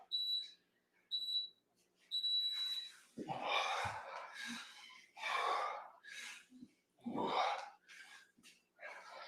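A workout interval timer gives three evenly spaced electronic beeps, the last one longer, followed by heavy exercise breathing and gasps from people working out.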